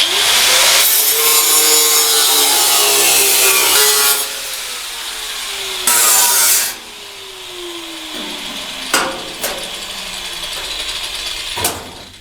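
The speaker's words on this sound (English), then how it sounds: "Now it's time to do a whole buffing of everything, get all that flat" Body filler over metal patches on a car panel being buffed flat: a loud, continuous abrasive rasp with a slowly falling whine, a short pause, then renewed grinding punctuated by a few sharp scrapes.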